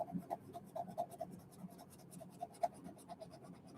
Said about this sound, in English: Even Crayolas sharpen well in the hand cranks.